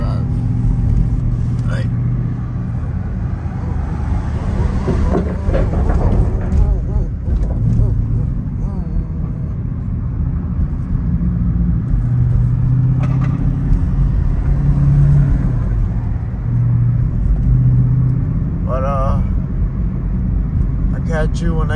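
A bagged, boosted Jeep Trackhawk cruising on a suburban road, with a steady low engine rumble and road noise throughout. Mild swells in the engine note and someone talking over the drive are also heard.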